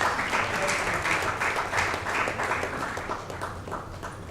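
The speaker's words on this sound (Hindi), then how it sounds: "प्लीज़ ज़ोरदार तालियां" Loud, dense audience applause at an open-mic poetry awards show welcoming a guest, continuous clapping from a crowd filling the room without pause.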